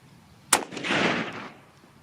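A single sharp report from a 30-06 rifle fired at a target 100 yards away, heard close, followed by a short rumbling echo that fades within about a second.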